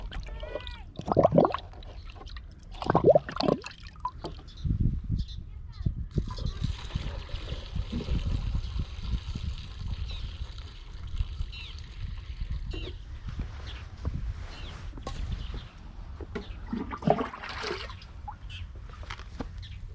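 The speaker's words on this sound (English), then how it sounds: "There you can see how I pour water on the opening of the 16 liters knapsack sprayer." Water is poured into the opening of a 16-liter knapsack sprayer, a fairly quiet splashing trickle mixed with handling knocks and bumps that comes and goes over the stretch.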